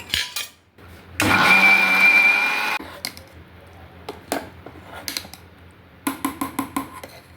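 A mixer grinder whirs loudly in a short burst of about a second and a half, grinding cooked raw mango, followed by light clicks, taps and clatter of kitchen handling.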